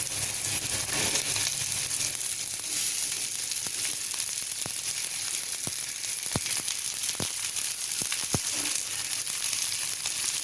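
Okra and onions sizzle steadily in a pan for a Tamil-style ladies finger fry, a dense continuous hiss broken by a few sharp clicks of a spoon stirring, close and even throughout with no talking.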